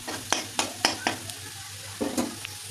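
Potatoes sizzle steadily in a pan while a spoon scrapes and stirs them in several quick, clattering strokes.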